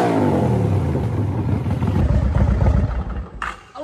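A 2006 Yamaha Road Star 1700 motorcycle engine revs up close and loud, a deep throbbing roar that climbs and then cuts off sharply near the end.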